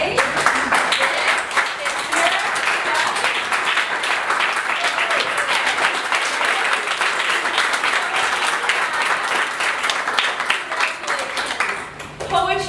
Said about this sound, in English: you guys stand up and we'll applaud you